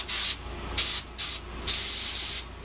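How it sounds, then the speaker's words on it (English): Bursts of hissing air from a spray gun, its nozzle blocked by a finger so the pressure blows back to clear the tip, four loud hisses of varying length with short quiet gaps between them. "push the trigger, and it's going to back pressure this, and it's going to clean out that tip"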